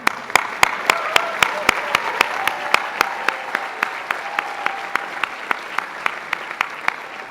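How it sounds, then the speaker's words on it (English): Outdoor crowd at the Harvard University 2013 Commencement afternoon exercises claps for a graduating class, sharp claps in a steady, even rhythm over a soft background wash of applause, lasting several seconds. "Let's have a round of applause for that class again."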